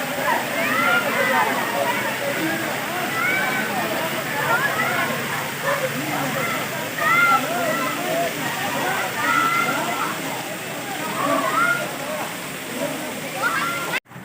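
The Dhani waterfall at a tourist point in Kashmir roars as a steady broadband rush, with water noise filling the whole stretch and people talking over it.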